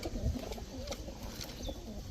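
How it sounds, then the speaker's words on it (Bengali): Racer pigeons coo nearby in low, rolling, throaty calls that repeat through the clip against faint background noise. "2 জোড়া রেসার কবুতর, এক জোড়া কালো রেসার, এক জোড়া সাদা রেসার।"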